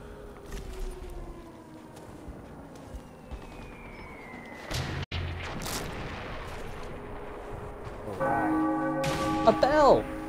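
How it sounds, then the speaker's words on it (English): A church bell tolls in the video game Sniper Elite V2, ringing out near the end amid rumbling gunfire and battlefield ambience, with a booming shot in the middle. "A bell! Now you can hear a church bell."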